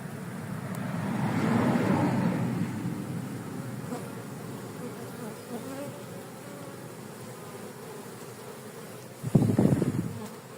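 Honeybees buzzing around a small polystyrene nucleus hive, a soft, continuous drone that swells and fades, with a brief louder buzz near the end as a bee passes close.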